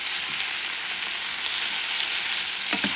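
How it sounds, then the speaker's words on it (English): Shrimp and tomato sautéing together in a pan for a sandwich filling, a continuous bright sizzle close by with a couple of stirring scrapes near the end. "you're going to saute everything together."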